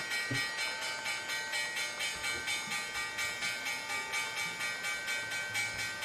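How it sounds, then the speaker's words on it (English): A stock market opening bell rings steadily, its rapid, evenly spaced strikes repeating without a break for several seconds, loud and alone. "There's the bell."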